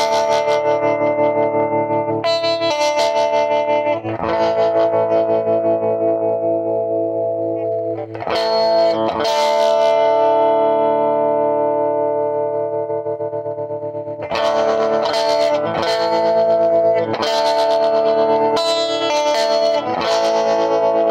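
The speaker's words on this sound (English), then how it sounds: "Tremolo is working better now too." An electric guitar plays sustained, ringing chords through a Gibson GA-5T Skylark tube amp under repair, with tremolo pulsing the tone and a speaker on the bench giving it a thin sound, loud with no talk.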